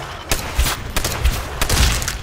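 Gunfire aimed at zombies in Call of Duty: World at War Zombies, with several sharp shots spaced irregularly across a short burst, loud and close, and no talk.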